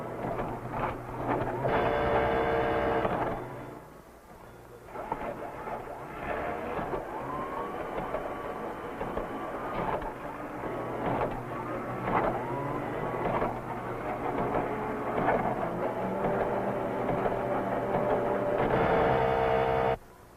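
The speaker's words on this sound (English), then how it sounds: "The motors and mechanism that really move him around are mounted underneath the maze floor" Motors and mechanism under the floor of Claude Shannon's Theseus maze, moving the magnetic mouse, a steady mechanical whirring and rumbling with higher whining starts and stops near the beginning and end.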